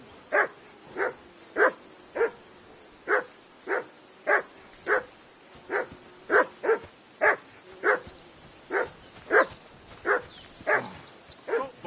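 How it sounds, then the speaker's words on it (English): A dog in the video game Kingdom Come: Deliverance 2 barks in a long, steady series of single woofs about every half second. The barks sound moderately near against a quiet background. "I assume you can hear that damn dog of yours barking."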